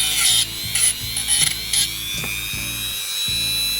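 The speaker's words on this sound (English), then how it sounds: "Alright, Dremel's warmed up." A Dremel rotary tool whirs at high speed during a Black Forest Regula 03 cuckoo clock service, loud and close, with short bursts and slight changes in pitch as it runs.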